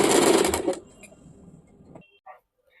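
A sewing machine stitches the waistband belt onto a salwar, giving a short, loud burst of fast mechanical whirring close by. It cuts off within a second, followed by faint clicks and handling sounds.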